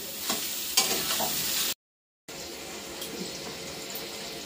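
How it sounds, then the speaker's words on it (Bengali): Spices of salt and turmeric fry in a pan, giving a soft, continuous sizzle with a few stirring scrapes, broken by a brief gap of silence partway through. "নুন হলুদ দিয়ে একটু ভেজে নিচ্ছি।"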